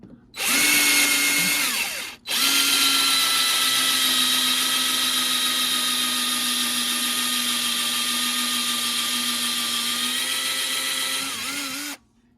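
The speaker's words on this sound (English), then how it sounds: "take my 3/16 drill bit, and I'm gonna go ahead and drill that hole" A power drill fitted with a 3/16 bit bores a hole in a Yamaha Viper 700 snowmobile, a loud steady high whine that stops briefly after two seconds, then runs continuously for about ten seconds before winding down.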